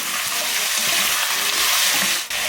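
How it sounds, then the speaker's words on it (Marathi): Mutton sizzling loudly in a hot pan as it is stirred and mixed for a traditional Agri Koli Maharashtrian curry, a steady close frying hiss throughout. "आता मी ह्याच्यात घालते मटण. छान मिक्स करून घेऊया हे."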